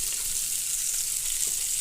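Italian sausage, sauerkraut and potatoes frying in a pan give a steady, moderately quiet hiss of sizzling without pauses.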